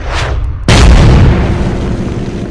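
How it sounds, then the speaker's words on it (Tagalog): A bamboo cannon fires with a sudden deep boom that breaks after a short lead-in, followed by a long rolling rumble and decay, loud and close. "Nagliparan pa ang mga natutulog na ibon sa buong kapaligiran dahil sa lakas ng pagsabog ng dala naming kanyon na kawayan."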